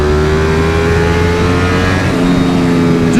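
A Ducati Panigale V4 Speciale motorcycle revs hard in second gear, a loud, close, continuous engine roar with steady harmonic drone that holds throughout, rising slightly near the end.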